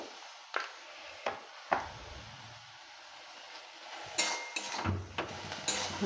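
Spinach and other greens being stirred with cumin and chilli powder in a cooking pan: a few sharp utensil clinks and scrapes against the pan, spaced apart, over a faint low background.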